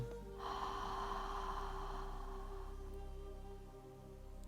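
One slow, deep breath is drawn in through the nose and let out again, close and clear, over a soft sustained musical drone from a guided meditation.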